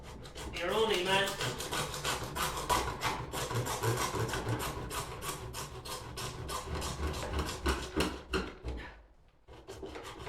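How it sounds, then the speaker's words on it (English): A junior hacksaw cuts through metal pipe with a fast, steady run of rasping back-and-forth strokes, close and continuous for several seconds before slowing and stopping. "So the junior hacksaw, your only man."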